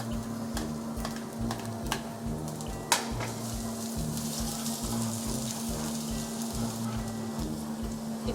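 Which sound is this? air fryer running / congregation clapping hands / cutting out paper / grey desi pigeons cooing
air fryer running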